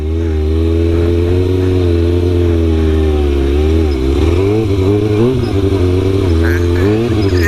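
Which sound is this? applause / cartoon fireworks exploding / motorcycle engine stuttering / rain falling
motorcycle engine stuttering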